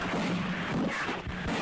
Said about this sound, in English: Whoa, cannon fire.